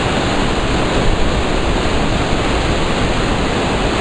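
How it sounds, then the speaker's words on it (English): A waterfall in the Three Sisters Wilderness, heard as a loud, steady broadband roar of rushing water with no break and no voices. "the waterfalls."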